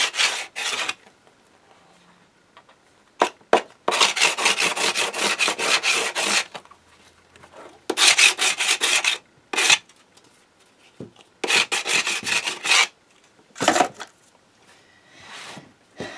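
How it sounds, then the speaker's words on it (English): A sanding block rubs back and forth along the edges of a cast resin keeper. Several separate bursts of dry, rasping strokes come up close and loud, with quiet pauses between them and no talking. "if you feel the need to, use a sanding block"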